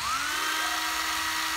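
A used Japanese cordless drill runs in hammer mode, giving a steady, close, high whine with a buzzing rattle throughout the short burst.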